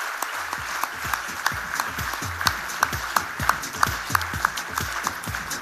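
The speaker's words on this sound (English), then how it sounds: "Can we have a huge round of applause for Ali," An audience claps for the first runner-up at a coding competition finale, a dense, loud round of applause with some sharper rhythmic claps standing out, no voices over it.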